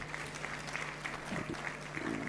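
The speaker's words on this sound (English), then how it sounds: "Big round of applause," Applause from an audience at a business forum opening ceremony in Kenya, a steady, dense wash of clapping that stays at an even level throughout, with a faint voice briefly audible under it.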